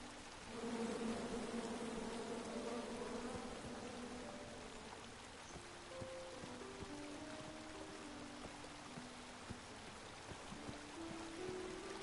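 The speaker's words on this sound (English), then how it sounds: "And then you chop down the tree full of angry bees?" Angry bees swarming from a chopped tree in the video game King's Quest, a continuous droning buzz with shifting pitches, steady and moderately loud throughout with no speech.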